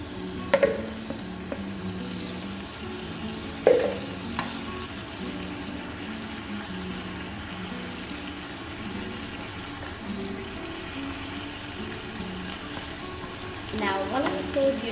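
Cauliflower frying in hot oil in a pan for aloo gobi, a steady soft sizzle broken by a few sharp clatters of stirring, with faint background tones.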